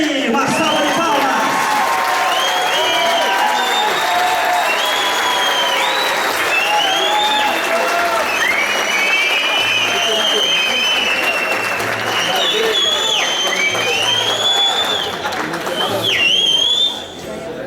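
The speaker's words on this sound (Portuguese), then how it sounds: "Uma salva de palmas." An audience at a lecture on urban mobility legislation applauds and cheers as a municipal traffic agent is invited to the stage, loud sustained clapping with whoops, whistles and crowd chatter mixed in throughout.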